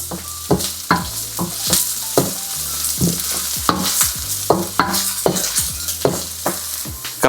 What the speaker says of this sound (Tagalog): Gisahin nyo lang maigi to guys.